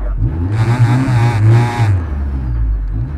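A turbocharged Mazda Miata accelerates hard out of a slow corner at a trackday, engine revving loud and close in a steady rising surge for about two seconds, then settling into a lower drone.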